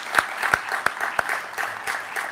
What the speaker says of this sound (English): let's just give them a round of applause, please